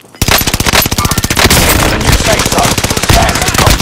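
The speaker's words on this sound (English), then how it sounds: "I'm under fire!" Rapid automatic gunfire from a video game firefight, dense and loud bursts of shots rattling continuously with heavy low-end thumps, while a player's voice is faintly mixed underneath.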